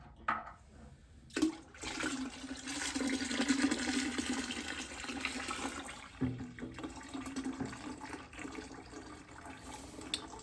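Fuel drains from a motorcycle tank through its unscrewed petcock, a continuous splashing liquid rush that swells and stays steady for several seconds, with a couple of clunks.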